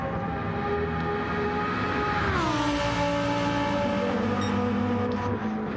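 A Lamborghini Huracan race car at Monza in a racing game, its engine a loud, steady high-pitched drone that drops in pitch around midway as it shifts or brakes, then holds on, with no talking.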